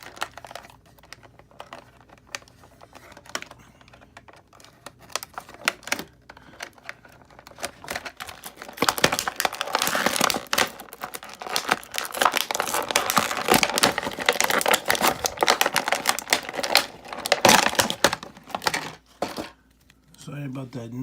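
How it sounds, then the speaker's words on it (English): Plastic toy packaging being handled while a twist tie holding a large figure is untied, a long run of crinkling, rustling and small clicking sounds building in intensity, with brief bits of talk. "Because it's a simple twist tie keeping her locked in, I'll just untie it as opposed to trying to cut."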